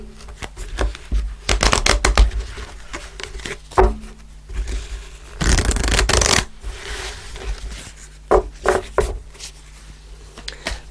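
Tarot cards are shuffled up close in quick, papery riffling bursts separated by short pauses, with one longer, dense riffle in the middle.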